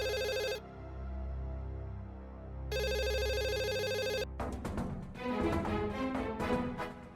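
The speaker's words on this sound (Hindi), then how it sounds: "जाके फोन बज रहल बा।" An indoor telephone rings in loud repeated electronic bursts, two long rings separated by a pause, followed by a busy mix of music and clatter.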